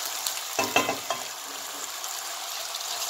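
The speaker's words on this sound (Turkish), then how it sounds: "Pasta kaşıkla karıştırıyoruz. Metal kullanmıyorum." Ivy shoots frying in a pan, stirred with a non-metal pastry spoon: a steady soft sizzle with a few brief scraping strokes near the start, then an even hiss, no talking.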